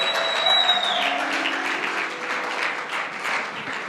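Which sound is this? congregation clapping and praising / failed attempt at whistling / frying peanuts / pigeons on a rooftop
congregation clapping and praising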